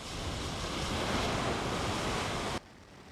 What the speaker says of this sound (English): The lava battles the relentless surf